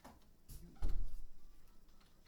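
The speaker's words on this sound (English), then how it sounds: "Shutting the door, that way it's not going to come loose on you." A door fitted with a rubber seal is pushed shut, giving a single close, dull thump followed by a short low rumble.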